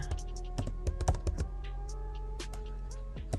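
Rapid clicking keystrokes on a computer keyboard as a brand name is typed out in all caps, quick uneven taps close up against a quiet room.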